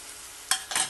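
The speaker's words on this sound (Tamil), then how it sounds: "தக்காளி வெங்காயம் நல்லா வதங்கிட்டு இஞ்சி பூண்டு பேஸ்ட்டு அதை போடணும்" Tomato, onion and ginger garlic paste are sautéed in a pan, giving two quick stirring scrapes over a faint background sizzle. The sound is brief and close, with no voices.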